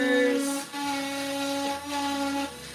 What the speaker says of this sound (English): Add that to my Dremel and excuse this, it's going to get a little bit loud.